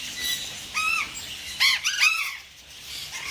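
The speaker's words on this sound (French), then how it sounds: "Les oiseaux grande gueule." Loud, harsh squawks from large, loud-voiced zoo birds, several raucous calls in quick bursts, close and clear with no talking.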